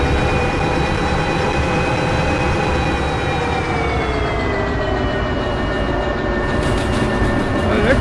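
A train rolling in the railway simulator game Derail Valley, a loud steady rumble of wheels on track with sustained tonal whines that slowly drift downward, continuous throughout.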